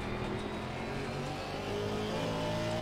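A GT3 race car in Assetto Corsa Competizione, a Halloween event race, roars continuously at high revs, steady and loud, with no talking.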